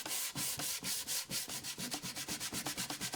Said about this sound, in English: For this kind of sanding, I fold the quarter sheet into thirds and hold it flat in my hand.